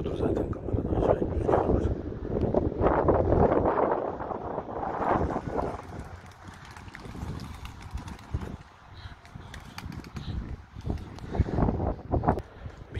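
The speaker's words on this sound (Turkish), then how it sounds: "Çok rüzgar var ama." Strong wind buffets the microphone outdoors during pigeon flying, producing uneven low rumbling gusts throughout with occasional louder blasts and a few faint clicks.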